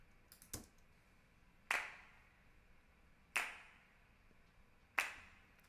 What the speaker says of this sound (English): So that's 3 channels of me clapping.